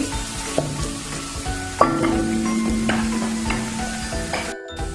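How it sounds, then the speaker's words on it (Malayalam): Curry leaves frying in oil over a low flame, with a continuous close sizzle and spatter and a utensil stirring and clinking against the pan at irregular moments, fairly loud with no voices. "ഇതിലേക്ക് കുറച്ച് കറിവേപ്പില ചേർക്കാണ്"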